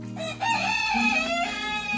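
Laying hens in a coop cluck while a rooster crows loudly and close by, a continuous call lasting about two seconds with no talking.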